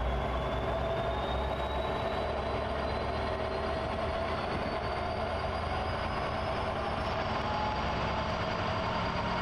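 A freight train runs in Train Simulator Classic on the CN Chicago Subdivision, a continuous steady rumble and roar of engine and rolling cars, loud and unbroken throughout.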